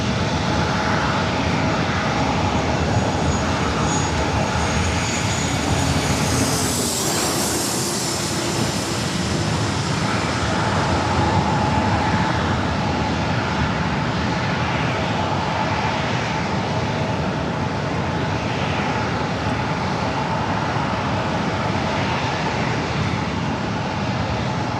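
A military aircraft takes off at San Diego airport, its engine roar loud, broad and continuous, swelling slightly as it climbs away, with no voices over it.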